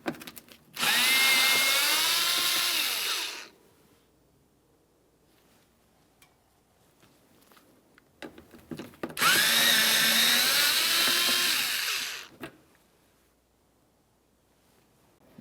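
A power tool backs out the 5.5mm mounting bolts near the mud flap and front inner fender liner of a 2015–2020 Ford F-150. There are two separate whirring bursts of about three seconds each, close and loud, with quiet pauses between them.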